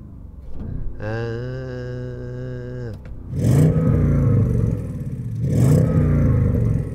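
An Audi S8 engine is blipped twice toward about 4,000 rpm from standstill, each loud, throaty rev swelling and then falling away, after a steady droning tone that holds for about two seconds.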